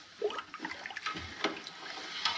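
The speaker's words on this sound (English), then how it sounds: "And I can feel it scraping along the bottom of the pan" A spoon stirs brewing sugar in water in a pan while home brewing an IPA, producing irregular scraping and sloshing clinks along the pan bottom, close and fairly loud in short bursts.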